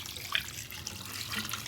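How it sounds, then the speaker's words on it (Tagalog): Water pours into a cooking pot of Filipino pork humba in a steady, fairly soft splashing trickle at close range, with no talking. "Lalagyan lang po natin ng tubig."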